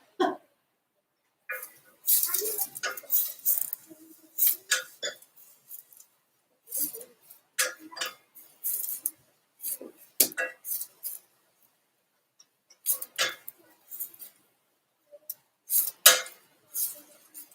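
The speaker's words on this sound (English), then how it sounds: "So I'm just chasing my onions around the pan." Onions are pushed around a hot pan with a utensil, giving sparse, irregular scraping and clinking strokes in short bursts separated by quiet gaps, fairly close and moderately quiet.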